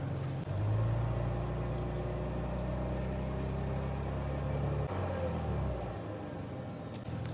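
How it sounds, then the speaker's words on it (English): A car engine idles and then is held at raised revs during an alternator charging test, a steady loud hum and rumble that drops back toward idle near the end, with no talk over it. "Increase revs, okay."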